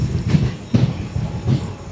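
Express train 17243 pulling out of Mangalagiri station, a loud, close rhythmic clatter of wheels over rail joints repeating roughly every three-quarters of a second beneath a steady rumble, with no talk.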